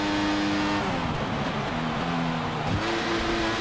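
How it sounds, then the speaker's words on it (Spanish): A Formula 1 race car in the video game F1 2014 on the Russia circuit accelerates with a steady, loud, high-pitched engine whine that rises through the gears, then shifts and climbs again, with no talking. "Salimos acelerando"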